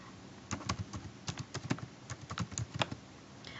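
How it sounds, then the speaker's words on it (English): Computer keyboard keys tapped in a quick, uneven run while typing a short search query, a dozen or so crisp clicks close up with small pauses between bursts. "If I type in flu vaccine"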